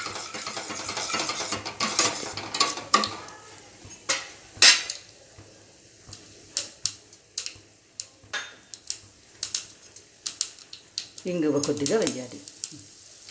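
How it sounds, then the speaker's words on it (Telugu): Mustard seeds frying in oil for a South Indian sambar tempering, with a steady sizzle and scattered sharp pops and clinks of utensils against the pan, while someone speaks over the cooking. "దీనిలో ఆవాలు, కొంచెం వేగిన తర్వాత"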